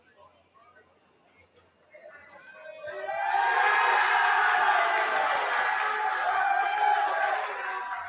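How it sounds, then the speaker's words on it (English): Crowd in a gym at a girls varsity basketball game, a few faint shoes squeaks and thuds before a loud burst of cheering swells and holds for several seconds. "The Pickford crowd happy."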